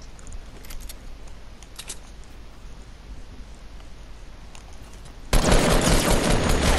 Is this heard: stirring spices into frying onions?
no